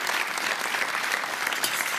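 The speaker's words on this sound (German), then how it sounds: "den Applaus, den können Sie direkt noch mal ein bisschen lauter machen für Ernst Otto" A studio audience at a TV cooking competition claps in a brisk, even round of applause, loud and close, with no break from start to finish.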